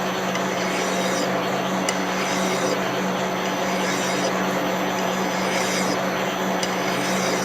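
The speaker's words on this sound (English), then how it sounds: "I'm going to go ahead and take a file and just kind of work it down a little bit" Steady hand filing on a Suzuki RM125 motorcycle crankshaft during repair, a continuous dense rasping that runs unbroken and fairly loud throughout, with faint periodic strokes and a low workshop hum underneath.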